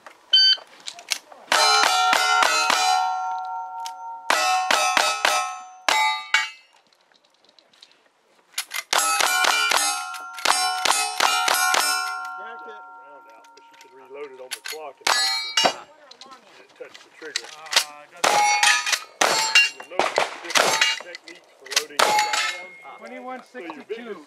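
Rapid strings of sharp metallic clangs from bullets striking steel targets on a shooting stage, arriving in quick clusters with short gaps between strings, each ping ringing briefly.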